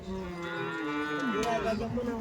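A cow moos once in a long drawn-out call at a busy cattle market in Nalegaon, Latur, close and loud over a constant murmur of people talking in the background.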